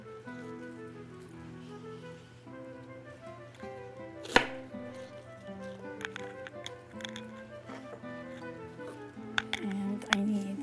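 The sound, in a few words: chopping vegetables with a knife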